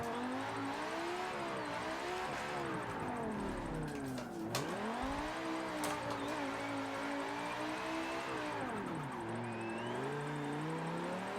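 A car drifting in Forza, engine revving and wavering up and down steadily with whirring tone, near and continuous throughout, with tire noise blended in.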